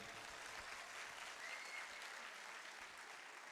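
Audience applause at a mushaira poetry gathering, a steady, even wash of clapping that holds at moderate level throughout without voices.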